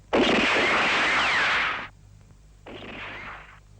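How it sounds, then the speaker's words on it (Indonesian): Gunfire aimed at a car in a 1981 film, two harsh noisy bursts, the first long and loud, the second shorter and softer, separated by a short pause. "Jangan tembaki mobil itu."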